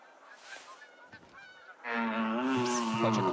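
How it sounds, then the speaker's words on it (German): Geese honking in the hunting video game theHunter: Call of the Wild, a loud cluster of overlapping calls that rises sharply midway after a quieter stretch of faint ambience. "aber da hinten kommen auch noch Gänse"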